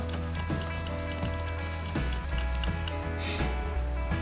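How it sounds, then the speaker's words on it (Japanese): Steady rubbing strokes of a file or sandpaper working the body of a Tamiya 1/24 Fairlady 240ZG model car kit, continuous and close, with a faint musical background. "ヤスリだけでなんとかなるかな。"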